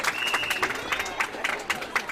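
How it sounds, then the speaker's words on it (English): Scattered clapping from kids in a crowd at a teen tournament playoff game: a loose, uneven patter of hand claps at moderate distance, irregular rather than sustained applause. "I think we got some kids in front of us that feel like clapping, so they clapped."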